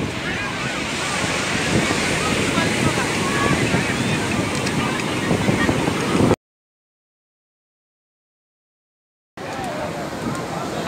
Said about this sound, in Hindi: देखिए हम जगन्नाथपुरी के पास बीच पे हैं